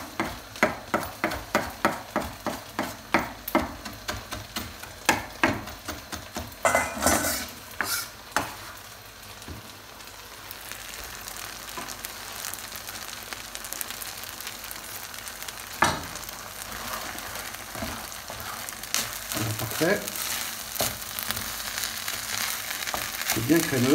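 Chopped asparagus is stirred into risotto rice in a pan, opening with a quick run of rhythmic knocks, then giving way to wet scraping and a low frying sizzle.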